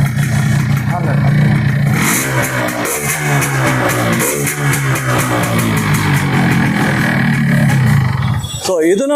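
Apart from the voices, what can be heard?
Yamaha RX135 5-speed motorcycle engine idling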